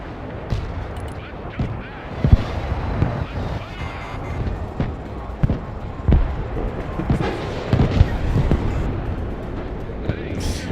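Artillery shells strike battleships in a naval combat video game, a rapid series of heavy booming impacts and blasts over a constant windy, watery rumble, loud and close throughout.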